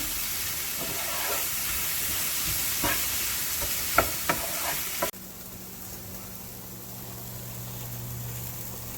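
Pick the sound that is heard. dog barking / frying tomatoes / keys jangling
frying tomatoes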